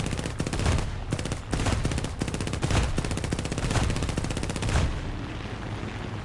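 Guns firing nonstop in War Thunder, a continuous loud stream of rapid machine-gun bursts with heavier booming shots mixed in, close and dense for the whole stretch.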